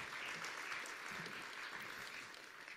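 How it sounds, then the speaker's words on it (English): A round of applause for commission members at a city disability awards ceremony, as an audience claps steadily, faint and distant throughout. "Let's give them a round of applause and thank them so much for what they do."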